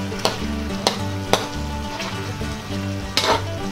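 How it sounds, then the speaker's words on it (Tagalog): Chicken pieces in barbecue-style marinade with chili, fried in a pan and stirred repeatedly until dry: a steady close sizzle broken by several sharp spatula scrapes and clacks against the pan. "Haluin na lang natin ng hahaluin to hanggang sa mag-dry po siya."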